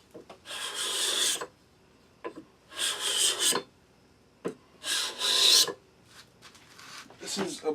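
A card scraper scrapes across hard maple in four or five close, rasping strokes, each about a second long with quiet gaps and light handling knocks between, with no talk.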